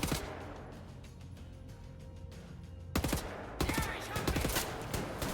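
Gunfire in the video game Wolfenstein: The New Order, shooting through concrete cover, rapid repeated shots in a steady burst, then louder, denser volleys after a short gap, heard close and without talk.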